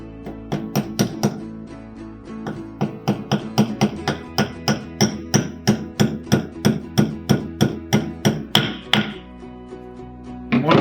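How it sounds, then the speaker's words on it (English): Repeated light hammer taps driving small pins into the top holes of a dual fire insert, a steady series of sharp metallic knocks close up, slowing slightly toward the end with no talking. "Just gently tap them in because you do not want to bend the pins."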